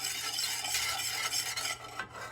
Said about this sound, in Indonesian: Aduk-aduk hingga merata.